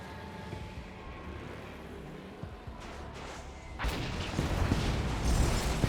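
Artillery volley slamming into predator tanks in Command and Conquer: Kane's Wrath, scattered distant thuds and battle rumble building to a heavy, sustained burst of impacts near the end.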